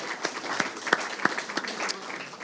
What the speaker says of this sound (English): let us give our panel a big round of applause